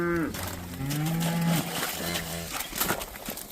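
A cow on a farm gives a long, low moo nearby that bends in pitch and trails off, with wind-like outdoor noise and faint background sounds around it.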